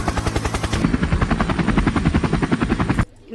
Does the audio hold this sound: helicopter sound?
yes